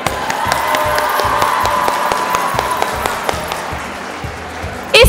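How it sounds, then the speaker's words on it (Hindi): Crowd at an Independence Day celebration in Kuwait applauding the sponsors, loud mixed clapping and cheering from a large hall audience, with a sustained tone running under it and a sudden burst at the end. "प्लीज़ स्पॉन्सर्स के लिए एक बार मेरे साथ भरपूर तालियां बजाएं"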